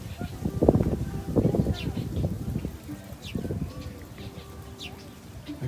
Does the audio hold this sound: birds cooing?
yes